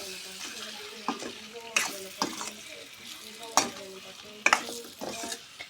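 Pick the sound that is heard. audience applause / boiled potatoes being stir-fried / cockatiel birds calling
boiled potatoes being stir-fried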